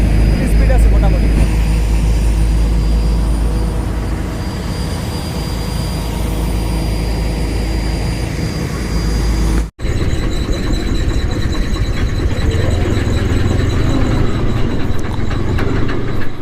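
A river ferry's engine rumbles loud and steady while crossing, a continuous low drone with a brief cut partway through, and a voice talks over it.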